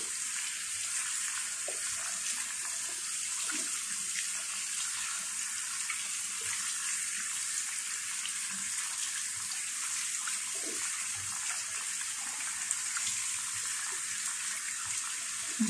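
Water runs steadily from a tap to rinse feet during a pedicure, a continuous hissing stream at moderate level for the whole stretch, with faint scattered clinks and movements in the background and no talk.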